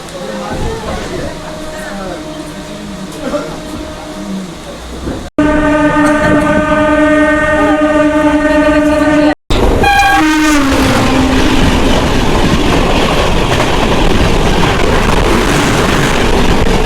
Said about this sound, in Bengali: এই ট্রেনটি এখন এই দিক থেকে এইদিকে আসলো, পাঁশকুড়াতে আসলো